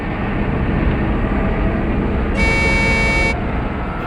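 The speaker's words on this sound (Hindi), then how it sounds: "हॉर्न भी बजा रहा है।" Over a steady rumbling truck engine in a forest, a loud truck horn blares once for about a second, a sustained tonal blast.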